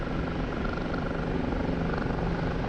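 The rotor of a Kiowa helicopter in the DCS flight simulator, a steady, loud, dense whir and chop that runs unbroken and with no voices over it.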